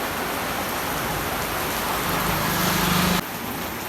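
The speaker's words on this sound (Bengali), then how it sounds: "মনে হচ্ছে বৃষ্টিটা কমেছে।" Rain falls steadily in a dense, even hiss on surfaces, close and alone, with a brief hum that drops away near the end.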